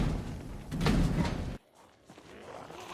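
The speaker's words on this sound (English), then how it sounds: "Stop banging on the fucking door." Heavy thuds and banging hit a door in the Project Zomboid video game, with a loud burst that cuts off abruptly into near quiet and faint noises.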